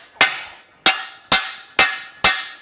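Five sharp, evenly spaced hammer blows ring out up close as a tapered lower control arm ball joint is driven out of a 2015 Subaru Forester, each strike followed by a short metallic decay.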